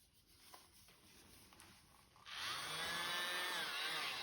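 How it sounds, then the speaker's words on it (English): A small electric blower switches on partway through and whirs at a steady high pitch, close and loud, to spread acrylic paint in a Dutch pour. Faint quiet handling sounds come before it starts. "I'm just going to blow it out with this little blower"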